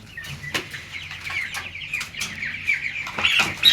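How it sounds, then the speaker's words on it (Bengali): Four young Tiger chickens, about a month old, cluck and squawk up close while being weighed on a scale, with sharp intermittent calls and brief bursts of wing flapping. "এখানে চারটা মুরগি আছে"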